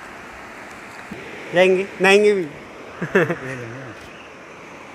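A river flowing beside the Billkeshwar Mahadev temple in the hills, a steady broad rushing wash of water running throughout, close and continuous, with people speaking briefly over it.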